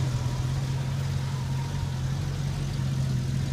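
A 1973 Ford Mustang Mach 1 engine runs at a steady low idle as the car is eased forward, a constant deep rumble with no revving, heard alone.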